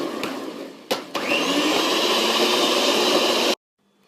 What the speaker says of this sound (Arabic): اول شي هلا طبعا بنخفق الزبدة والسكر